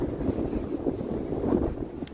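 Gusting wind on a windy November day in uptown Halifax, Canada, buffeting the microphone as a steady, rumbling roar with no talk.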